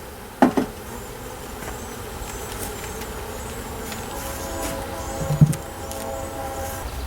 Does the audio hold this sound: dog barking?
no